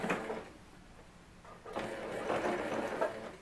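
A sewing machine runs a seam a few millimetres from the edge of fabric for a ruffled dress, a soft, steady mechanical whir close by that pauses briefly and then resumes.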